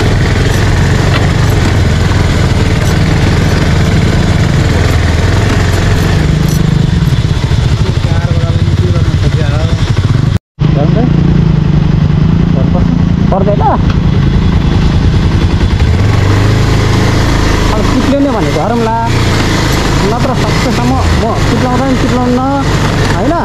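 An off-road motorcycle engine runs on a rough trail, a continuous loud rumbling idle with uneven revving, heard close up under people talking.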